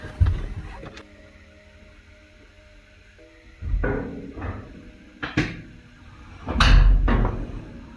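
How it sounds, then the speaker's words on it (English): A car hood is lowered and shut with a few dull, hollow thumps and clunks, ending in a heavier slam, all close by against a quiet background. "Let me close the hood real quick."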